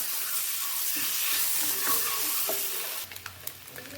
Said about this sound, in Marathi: सगळे अंडे आपल्याला व्यवस्थित फ्राय करून घ्यायचे आहेत